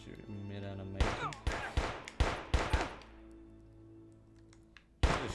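Gunfire in a PlayStation shooter game, a series of sharp, loud shots in an irregular run, then a pause before one more blast, over game background tones.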